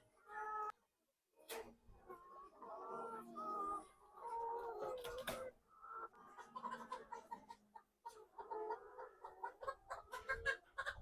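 Egg-laying hens cluck and squawk close by in a quiet coop, irregular calls with occasional sharp knocks and short pauses.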